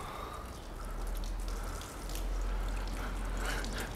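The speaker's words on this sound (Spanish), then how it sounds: "vamos a echarle el agua con esto" Water from a watering can splashes and trickles steadily over a parked motorcycle, a soft, continuous pattering that holds faintly throughout with slight swells.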